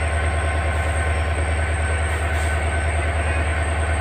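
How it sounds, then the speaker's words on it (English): Steady diesel locomotive rumble from a WDP 4D hauling a Hubli–Bijapur passenger train at Gadag Junction during loco reversal, a constant loud drone with heavy low hum and no speech. "WDP 4D, it is now locomotive reversal"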